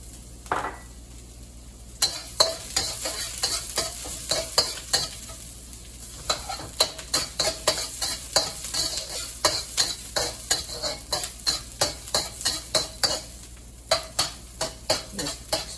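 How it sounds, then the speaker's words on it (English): Onions stir-fry in about half a tablespoon of oil in a heated wok. A bright sizzle runs under a fast, even run of loud metal spatula scrapes and clanks against the wok, with a short quiet pause near the start. "Stir fry for about a minute or so until you get the fragrance out."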